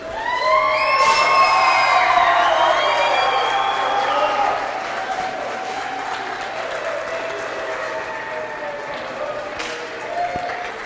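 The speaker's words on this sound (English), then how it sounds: "one more big round of applause for your Varsity Suburban Crusaders" A high school basketball crowd in a home gym applauds and cheers for the varsity boys team, loud clapping and shouting that swells at first and then settles to a steadier, quieter roar, with a few higher voices and tones rising through it.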